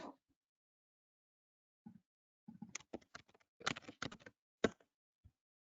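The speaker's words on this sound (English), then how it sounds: "hopefully I typed my password right" Password typing on a computer keyboard during a single sign-on login, heard as a quick, quiet burst of clustered key taps midway through, with near silence around it.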